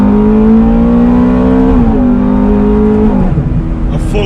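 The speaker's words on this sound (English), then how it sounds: "a full IPE exhaust system. That sounds amazing." A Ferrari F430 Spider tuned to 550 horsepower and fitted with a full IPE exhaust system revs in a steady, loud, close drone, its pitch holding and then stepping down slightly before settling.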